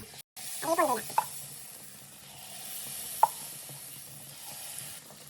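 Unniyappam batter fries in a hot pan, a steady soft sizzle running throughout, with a brief voice near the start and a single sharp tap midway.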